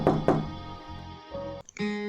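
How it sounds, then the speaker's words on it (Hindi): Knocking on a room door, two sharp raps near the start, followed by a sustained low musical tone that fills the rest. "तभी कमरे के दरवाजे पर दस्तक हुई।"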